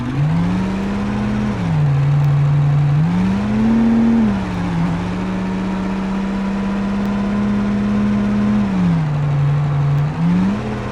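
In the BeamNG driving game, a car hauling a train of four trailers drones loudly and steadily, its engine pitch rising and falling through several revs with a faint whir of tires, no talk.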